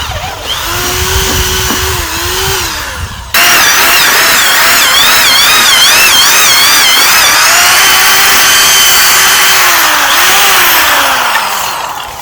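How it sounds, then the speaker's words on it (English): A power drill whines steadily at high speed, its pitch wavering as a paint mixing paddle churns through thick sugar mixture for bee feed bricks, loud and close throughout. "I'm going to take this paint mixing paddle and a drill and mix it up real good"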